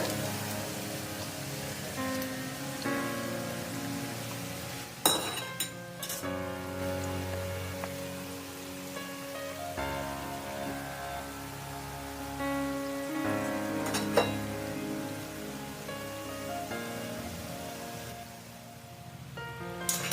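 Chana vadas, Tamil white chickpea masala fritters, frying steadily in hot oil over medium heat, a continuous close crackling sizzle with a few louder spatters and utensil knocks, no voices.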